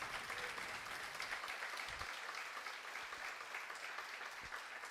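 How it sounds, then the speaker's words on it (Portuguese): Sustained audience applause at a religious talk, a dense steady wash of clapping throughout at moderate loudness with no speech over it. "pode dar a sua melhor salva de palmas"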